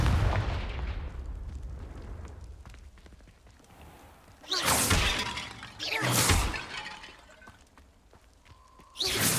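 Confringo blasting spell explosions in the video game Hogwarts Legacy: three loud, crackling fiery blasts with shattering debris, spaced a couple of seconds apart, each followed by a decaying rumble.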